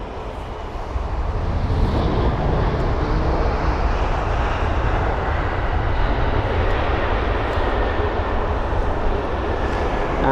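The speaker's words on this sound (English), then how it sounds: "And that is a British Airways 787" British Airways Boeing 787 Dreamliner at London Heathrow: a strong, sustained jet engine rumble swells in after the first second and stays loud and close for the rest, with no voices.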